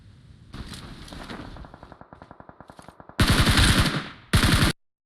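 Automatic gunfire from a shooter video game: a long, rapid, evenly spaced burst of shots, then two loud, dense blasts of fire close to the listener, with a sudden stop.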